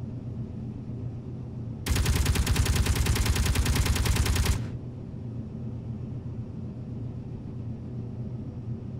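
A manually controlled gun turret in the video game Space Engineers fires a loud, fast continuous burst lasting about three seconds, starting and stopping sharply over a steady low background hum.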